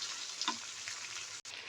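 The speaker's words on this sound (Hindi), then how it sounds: "इसको हम 2 से 3 मिनट तक भूनेंगे ताकि जो लहसुन अदरक की पेस्ट है उसका जो स्मेल है वो इसके अंदर ख़त्म हो जाए" Ginger garlic paste fries in a pan, a soft steady sizzle with a faint clink, quiet and close, with a brief drop-out near the end.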